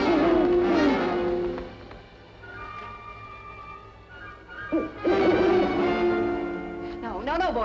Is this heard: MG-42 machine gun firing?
no